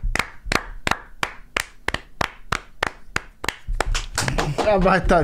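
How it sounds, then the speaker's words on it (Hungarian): A steady run of single hand claps, sharp and evenly spaced, keeps going on its own before voices and other sounds join in near the end. "Mindenki láthassa, hogy Ádám tovább tapsol"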